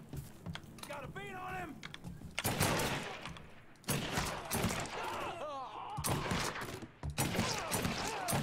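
Rifle fire in the game Mafia 3 comes in short cracking volleys and single sharp shots between stretches of quieter action, with a voice talking at times.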